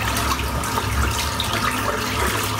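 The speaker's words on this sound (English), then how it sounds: "Just rinsing the soap off" Tap water runs steadily into a sink while shaving soap is rinsed off, a close, even splashing flow with no talk.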